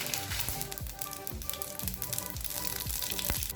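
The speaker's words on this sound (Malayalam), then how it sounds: "കടുക് പൊട്ടിയിട്ടുണ്ട്." Mustard seeds crackle and pop in hot coconut oil for Kerala-style green gram thoran, with irregular sharp spits over a soft, continuous sizzle, heard close and without talk.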